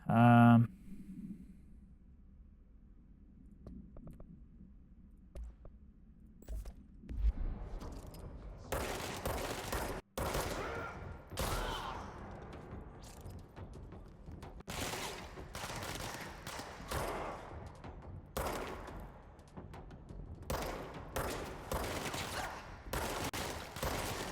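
Gunfire in the video game Control: repeated bursts and single shots crack across the scene alongside booming impacts, after a quiet start, with someone talking intermittently over the action.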